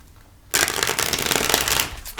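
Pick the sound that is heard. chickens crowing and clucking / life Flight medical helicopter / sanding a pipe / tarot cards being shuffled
tarot cards being shuffled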